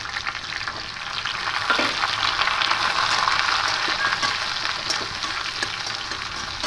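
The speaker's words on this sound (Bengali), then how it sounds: "ঝিঙে দিয়ে একটু হালকা করে আর একটু ভেজে নেব" Sliced ridge gourd and potatoes frying in a pan for a light rohu fish curry, a steady mid-level sizzle with occasional soft stirring sounds.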